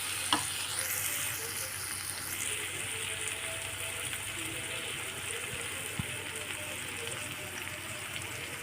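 Masala with turmeric sautés in a pan as pasta is prepared, a steady close sizzle with occasional scraping stirs and a faint ticking tone under it, and no voice.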